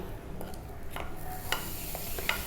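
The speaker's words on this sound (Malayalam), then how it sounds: "ആദ്യം നമുക്ക് ഒരു അരക്കപ്പ് തേങ്ങ ഒന്ന് ലൈറ്റ് ബ്രൗൺ ആയിട്ട് വറുത്തെടുക്കണം." Half a cup of grated coconut dry-roasting in a pan while being stirred, a quiet hiss punctuated by a few sharp scrapes and taps of the spoon against the pan.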